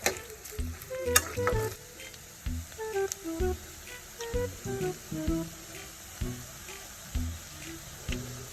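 Onion and garlic sauté in oil in a pan, a quiet sizzle broken by repeated rhythmic scrapes and knocks of a utensil stirring, with faint background noises.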